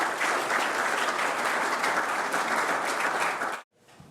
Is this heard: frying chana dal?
no